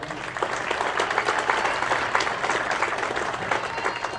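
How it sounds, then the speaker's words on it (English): Audience applause for stage band soloists, a steady round of clapping from a moderate crowd held at an even level for a few seconds. "Nice round of applause."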